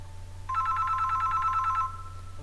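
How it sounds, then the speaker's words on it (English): A telephone rings as a sound effect in a scary story: a rapid, trilling electronic bell that sounds for about a second and a half over a steady low hum, then cuts off. "the phone rang again."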